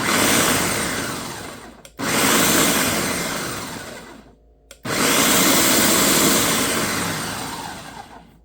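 Blender pulsing to puree cooked butternut squash, two loud whirring bursts of several seconds each separated by a short pause, each winding down as the motor slows.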